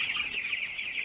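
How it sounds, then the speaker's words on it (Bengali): A farm-raised chicken clucks in a steady, continuous burst, close and clear and alone without other sounds. "এই যে মুরগিটি আমি পালন করতেছি"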